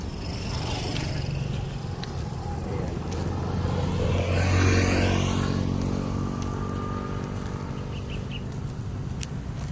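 Traffic passing on a road in Salitran, Dasmariñas, beside former rice fields: steady engine and tire noise, with one vehicle swelling loud and close at mid-clip before fading, plus faint birdsong.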